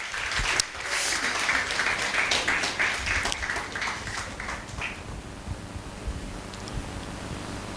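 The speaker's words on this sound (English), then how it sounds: "Give them a round of applause." Studio audience applauding quiz teams at a banking quiz semi-final, a dense round of clapping for about five seconds that fades to a quieter murmur.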